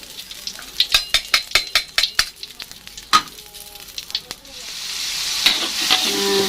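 Sharp clinks and taps of utensils against a pan, followed by a steady hiss of mackerel tuna frying in hot oil that swells toward the end.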